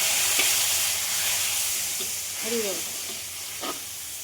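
Ground spice paste fries in hot oil with whole cinnamon, cardamom and cloves, giving a continuous loud hiss and sizzle with a few faint utensil taps; a voice speaks briefly over it.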